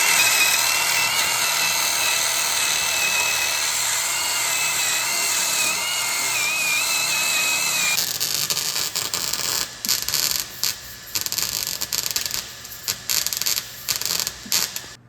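On the muffler pipe of a 2011 Honda Accord Crosstour 3.5L V6, a high, steady tool whine runs first. It is followed by short, crackling bursts of welding on thin exhaust metal, starting and stopping repeatedly.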